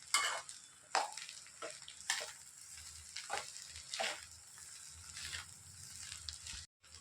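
Egg fried rice with pepper powder and soy sauce is stirred in a hot pan, with repeated scraping strokes of a spatula over a continuous sizzle, close and fairly loud.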